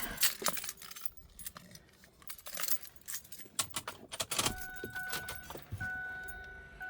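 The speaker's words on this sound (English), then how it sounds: "Gotta love the diesel on a cold day." Keys jangle before a 2008 Ford F-350 diesel truck starts on a 0-degree day; the engine turns over and settles into a running rumble partway through, close and without speech.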